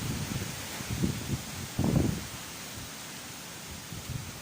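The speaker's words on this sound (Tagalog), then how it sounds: "Landfall dito na malakas ang hangin" Strong typhoon wind during the landfall of Storm Ulysses in San Carlos City, Pangasinan, rushing and buffeting the microphone in uneven gusts, with one louder blast midway over a steady background roar.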